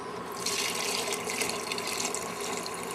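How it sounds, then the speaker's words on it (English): Water pours steadily into a pot of black bean soup, a continuous close splashing rush that swells after the first half-second and runs on without talk. "Add some water."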